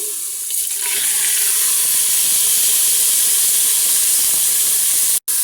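Meat hits hot masala in a pan, setting off a loud, continuous sizzling hiss that stays strong and steady up close, with a brief cut near the end.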